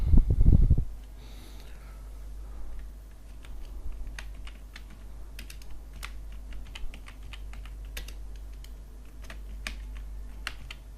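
Typing on a computer keyboard while setting up a WordPress site: a steady run of light, close key clicks over a low hum, following a brief louder bump at the start, with no talking.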